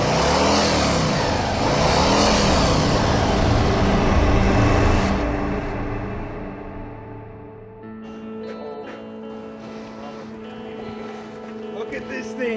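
A Harley-Davidson motorcycle engine rumbles loudly close by, revving with rising and falling pulses, then settles to a steadier lower drone as the bike rides away, with a voice speaking over it.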